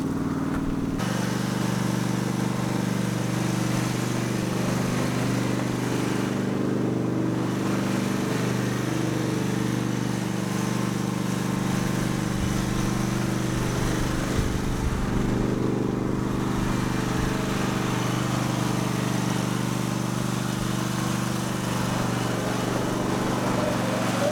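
A Premier R322 all-wheel-drive articulating ride-on mower idles and warms up on gravel, a steady loud engine drone with a constant low hum that holds for the whole stretch, close by and unbroken.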